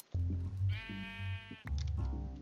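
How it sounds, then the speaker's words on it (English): A Minecraft sheep bleats in survival mode, two clear, close, wavering baa calls with a short pause between them, loud and heard without talk. "if I come over here to this sheep here"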